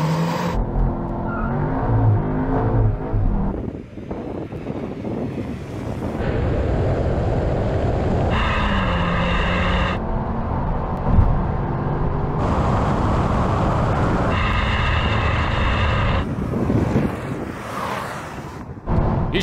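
A VW Golf R and a Cupra Leon launch from a standing race start, engines rising through several loud revving surges with gear changes, close and forceful amid heavy wind buffeting.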